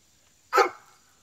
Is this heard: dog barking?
yes